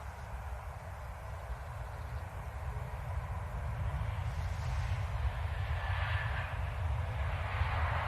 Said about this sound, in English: Next to land is Pegasus from Istanbul and A320neo,